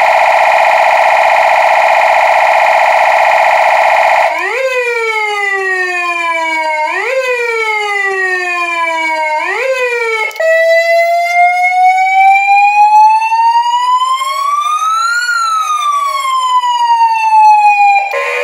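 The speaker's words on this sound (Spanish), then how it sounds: "el primero es el phaser que conocemos de todas las sirenas americanas" After a steady electronic tone, a loud American-style phaser police siren cycles through rapid rising and falling sweeps, then slower wailing pitch swoops, continuous and close.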